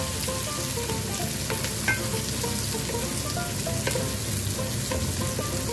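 White and red onions sautéing in oil in a pan, a loud continuous close sizzle with crackling pops and occasional stirring scrapes, no voices.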